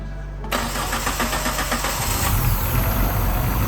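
A 1.6L 16V engine swapped into a Suzuki Samurai, freshly fitted with a new head gasket, cranks and catches, then settles into a steady, loud idle close by, with no voices.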